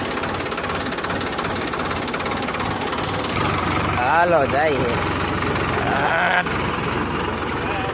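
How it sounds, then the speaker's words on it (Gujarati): A Sonalika tractor engine runs steadily through the clip, a constant low rumble with an idling, knocking quality, while people talk over it and a bleat-like sound briefly rises. "હાલો હાલો હાલો મિત્રો, આપણું ટ્રેક્ટર ઉપડ્યું."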